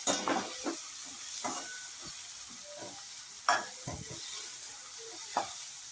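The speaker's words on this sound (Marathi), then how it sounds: "याच्यात थोडंसं हे आलं लसूण पेस्ट आहे, ही टाकायची आहे आणि चांगलं परतून घ्यायचं आहे" Ginger garlic paste sautés in a pan with onion and tomato, giving a soft, steady sizzle and hiss broken by occasional scraping stirs and light clinks, fairly quiet and with no talk.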